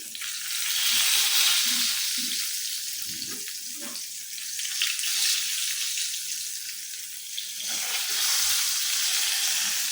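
Chicken kofta fries in a pan with a continuous loud hiss of sizzling oil, while low scraping and clinking from turning the pieces comes through beneath it.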